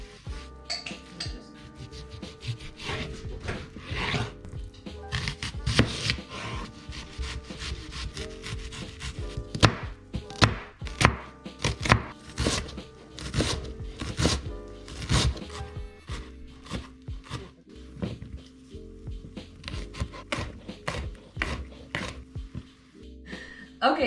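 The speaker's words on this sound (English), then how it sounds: "chop down the onions, the cilantro, and the serrano chilies." Onions, cilantro and serrano chilies are chopped on a wooden board for birria tacos, with a long run of uneven knife knocks and scraping strokes, close and moderately loud, with occasional light clinks.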